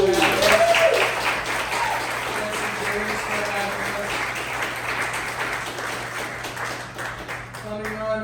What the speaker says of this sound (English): One more big round of applause for Bidwell, Perk.